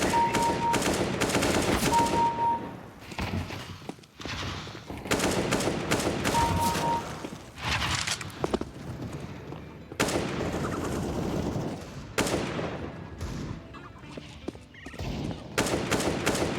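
Rapid bursts of automatic gunfire from Counter-Strike 2 match play, loud and repeated in clusters across the whole stretch with brief pauses between volleys.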